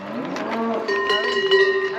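A herd of cows on a Doubs farm moo in deep drawn-out calls while cowbells clang and jingle continuously, close and fairly loud, with no talk.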